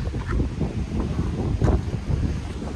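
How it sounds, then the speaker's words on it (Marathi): Strong wind blows across a hilltop fort and buffets the microphone in a continuous low rumble with gusty swells, loud and close, with no talk. "आणि वारा इतके जोराने आहे का बापरे"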